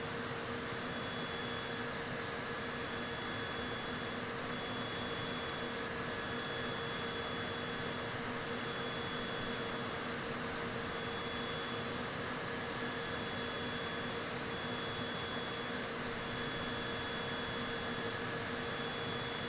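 A Cessna Citation private jet in the flight simulator MSFS 2020 cruises with a constant, even cabin roar and hum that does not change across the whole stretch.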